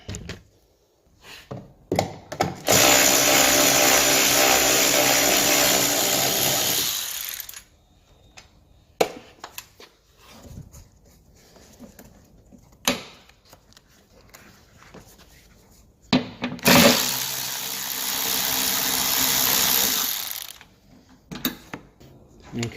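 Power tool undoing bolts on the front wing of an Alfa Romeo MiTo, two long sustained whirring runs of several seconds each, separated by quieter clicks and handling knocks.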